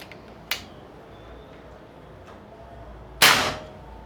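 A Predator OD 38 V2 PCP air rifle fires a single sharp, loud crack near the end, following a smaller click earlier, against a quiet background.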